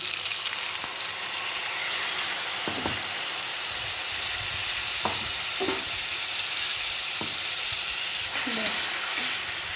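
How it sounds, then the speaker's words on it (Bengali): Tomatoes fry in a pan over lowered gas as a yogurt and spice mixture goes in, giving a steady close sizzle throughout with a few soft stirring knocks and scrapes. "টমেটোগুলো একটু ভাজা ভাজা হয়ে যেতেই একটু গ্যাসটা কমিয়ে দেবো, দিয়েই এই যে দইয়ের সঙ্গে মশলাটা করে রেখেছিলাম ওটা দিয়ে দিলাম"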